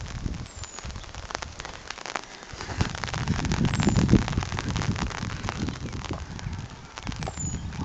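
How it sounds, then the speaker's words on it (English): Steady rain falls outdoors with a dense hiss of drops on hard surfaces, swelling briefly in the middle and continuing unbroken throughout. "Oh, the rain."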